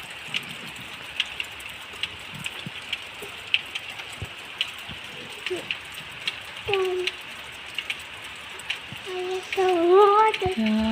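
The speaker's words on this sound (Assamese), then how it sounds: "আপোনালোকে দেখিছেনে বাহিৰত বতৰটো? ৰাতিপুৱাৰ পৰা বৰষুণ দি আছে।" Rain has been falling outdoors since morning, a soft continuous patter with scattered drops, with a few brief voiced sounds near the end.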